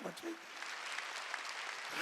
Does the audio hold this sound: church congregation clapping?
yes